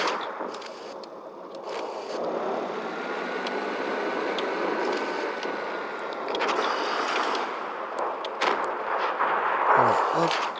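Tank cannon fire in the tank combat game World of Tanks Blitz, muffled booming shots and rumbling battle noise at moderate level, with scraping and engine rumble beneath and a sharper burst near the end.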